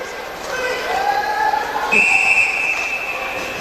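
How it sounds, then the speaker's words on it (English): A referee's whistle cuts through the steady crowd noise of an ice hockey arena at a Melbourne versus Adelaide women's league game, with one long, loud, shrill blast sounding over the hum of the rink. "Have a whistle."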